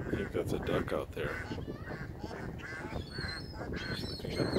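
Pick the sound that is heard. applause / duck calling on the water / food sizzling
duck calling on the water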